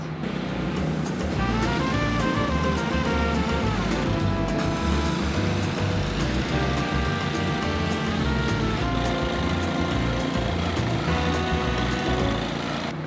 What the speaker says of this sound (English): They're power washing everything out from on the sidewalk out into the street